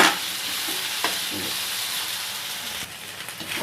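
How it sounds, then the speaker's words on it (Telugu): Ginger garlic paste frying in a pan for chicken curry, a loud hissing sizzle up close, broken by a few scrapes and knocks of a spoon as it is stirred. "ఇప్పుడు అల్లం పేస్ట్ వేస్తున్నాను. ఓకేనండి, ఇది కొంచెం కలుపుకుందామండి."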